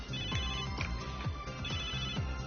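An in-game phone ringtone from Megadimension Neptunia VII plays as a looping electronic chime pattern, each note pulse repeating about twice a second, loud and clear over the game's background music, with no voices.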